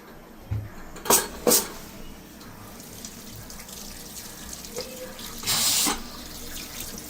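Water runs from a kitchen tap into a sink, with several sharp clatters and knocks early on, then a steady splashing burst near the end, heard close by.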